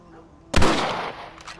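A single rifle shot in the Western video game Red Dead Redemption cracks loudly and close, its sharp blast trailing off into a ringing echo with a faint second report near the end.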